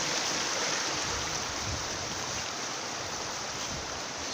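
A river near Lake Vyrnwy in Wales rushes past in a steady, dense hiss of flowing water, close and constant throughout with no voices.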